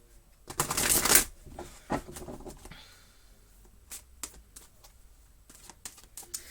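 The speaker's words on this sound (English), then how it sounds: "I'm going to pull you an Energy Oracle card by Sandra Ann Taylor" Oracle cards get shuffled near the mic, a loud riffle of rapid papery flutter in the first second, then scattered soft taps and flicks as the deck is squared and handled, with no voices.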